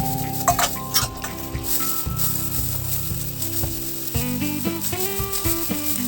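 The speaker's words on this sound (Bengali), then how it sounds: "এভাবে একে একে দিয়ে দেওয়ার পর কিছুক্ষণ ধরে আমরা কষতে থাকবো" Ingredients for doi katla fish curry sizzling and frying in hot oil, a steady close crackle with occasional clinks and stirring scrapes of a utensil in the pan.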